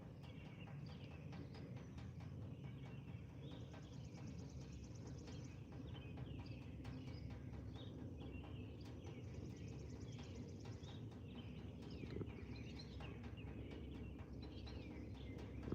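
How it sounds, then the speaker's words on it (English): Birds singing outdoors, a scattered chorus of faint chirps and calls over a low steady background rumble, continuing throughout with no talk. "That's a different set of birds."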